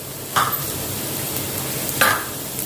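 A spoon scraping and stirring chili powder and black pepper in a pan over a low flame while making onion manchurian, two distinct scrapes against a soft steady sizzle.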